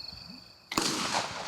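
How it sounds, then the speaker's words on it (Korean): A single sharp gunshot cracks out at moderate distance during a wild boar hunt in Korean countryside, fired by a capture team, its report ringing and decaying into the open air after a quiet outdoor lull. "그때 멧돼지를 추격했던 포획단의 총성이 울렸다"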